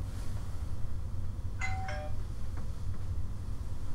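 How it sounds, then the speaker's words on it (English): A doorbell chimes once in a two-tone ding-dong, fairly clear above a low background hum, with no talking. "Oh, shit. Doorbell. Let me see."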